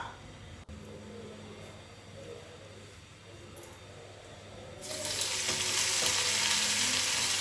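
Spinach frying in oil for a potato-spinach dish, a steady close sizzle that swells into a louder, denser hiss partway through as more leaves and oil hit the pan, no speech.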